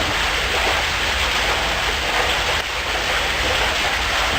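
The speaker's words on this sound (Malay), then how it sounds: "Awan menjadi berat dan turun sebagai hujan." Rain falls in a loud, dense, continuous hiss, with a steady wash of drops and no pauses or voices.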